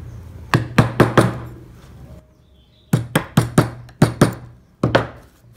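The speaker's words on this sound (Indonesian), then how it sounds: "Kemudian di bagian sela-selanya ini kalian rapikan menggunakan pahat kol yang kecil." Small wooden-handled gouge chisel, a pahat kol, tapped into carved wood in a series of sharp knocks: four quick strikes, a pause, then two groups of four and a final hit, close and clear with no talking.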